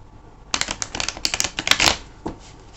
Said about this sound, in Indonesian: kita akan shuffle dulu ya kartunya